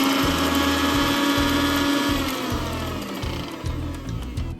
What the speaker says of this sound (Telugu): చల్లారిన తర్వాత ముందుగా వేయించుకున్న పోపును మిక్సీ పట్టాలి.